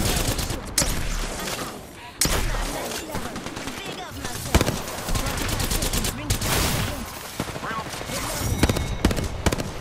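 Dense video game gunfire in bursts of automatic rifle fire and rapid shots, loud and near, running almost without pause through the clip, with voices speaking over the shooting.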